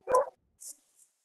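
A pet dog gives one short bark, then two faint high squeaks, close and in a quiet room.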